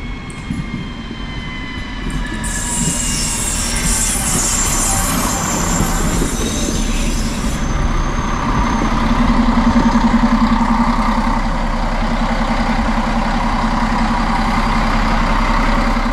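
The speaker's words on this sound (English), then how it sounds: "now we're listening to the arrival of my train today here in Lauterbach Mole" A regional train pulls into Lauterbach Mole station on the Bergen–Lauterbach line, with a loud, steady rumble of engine and wheels, a brief high squeal early on, and a continuous close-up drone throughout without speech.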